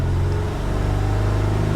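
A car engine rises in a short rev as throttle is applied, a loud, steady mid-pitched hum with no talking.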